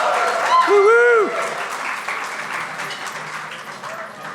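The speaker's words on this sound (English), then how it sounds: "Let's give them a round of applause." Applause from an awards gala audience rises briefly over a loud cheer or whoop, then settles into a steadier, thinning patter of clapping under background voices.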